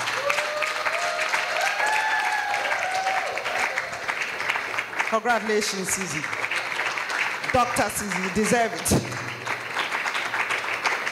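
An audience claps for an award winner at the Ghana Women in Finance & Investment Awards in an Accra hotel, sustained applause running under a voice on the PA that speaks congratulations over it.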